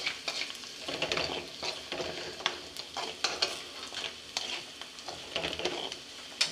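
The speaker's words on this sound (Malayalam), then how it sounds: "ചെറിയുള്ളി, മുളക് പൊടി, ചെമ്മീനൊക്കെ കൂടി ഇട്ട് എണ്ണയിൽ നന്നായിട്ട് വഴറ്റി എടുക്കുന്നു." Prawns with shallots and chilli powder sauté in oil in a clay pot, a close, sizzling hiss broken by repeated scraping stirs of a spoon against the pot in an uneven rhythm.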